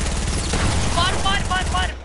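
Bursts of rapid gunfire in the Fortnite video game, a dense crackling volley with repeated shots, mixed with other game sounds and fading out at the end.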